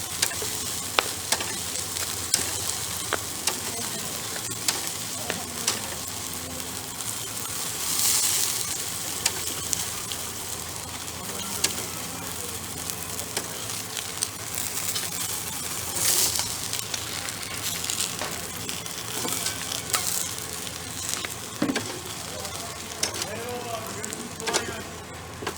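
Honey curry chicken wings sizzle loudly over a charcoal grill, a dense, continuous crackling hiss with sharper pops, close by and unbroken throughout.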